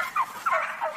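Turkeys on an organic poultry farm gobbling in a barn, a quick series of rattling warbled calls close by, with no voices.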